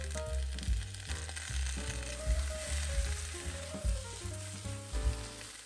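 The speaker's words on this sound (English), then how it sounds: "Then add all the vegetables in and stir fry." Beef and vegetables stir-fry in a hot pan for pepper steak, a steady crackling sizzle running throughout with a rhythmic low musical backing underneath.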